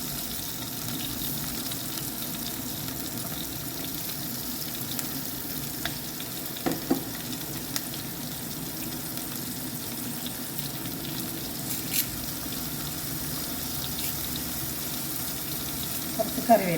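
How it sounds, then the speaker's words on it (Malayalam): Ginger, tomato and curry leaves sautéing in a pan for a fish curry, a steady moderate sizzle with occasional soft stirring clicks, close and continuous, with no talking. "നന്നായി ഒന്ന് വഴറ്റി കൊടുക്കാം."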